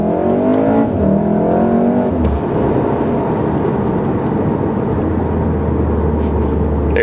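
2018 VW Golf R accelerating hard from a launch, the engine note climbing loudly, then a quick dual-clutch shift drops the pitch before a steady pull continues.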